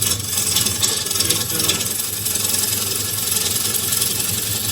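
A lathe gouge cuts a thin bowl of green elm wood, peeling off shavings in a steady, loud, hissing rasp over the motor's low hum, continuous and close without pauses or talk.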